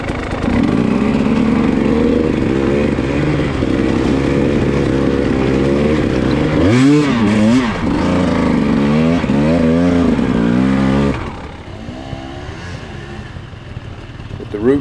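A KTM motorcycle engine revs loudly up close, rising and falling in pitch through several throttle blips before dropping to a rougher idle near the end.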